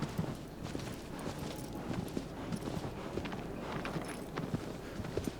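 Horse hooves clip-clop steadily at a walking pace in Shadow of the Colossus on PS4, a continuous rhythmic patter of soft thuds under a broad ambient wash with no talking.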